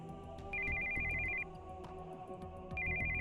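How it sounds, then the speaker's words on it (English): An incoming-call ringtone from a cell phone in Steins;Gate 0 plays as two steady, repeating electronic tone bursts with a pause between them, fairly quiet over background music, with no talking. "we heard the sound of an incoming call on a cell phone"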